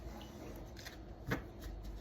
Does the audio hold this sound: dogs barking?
no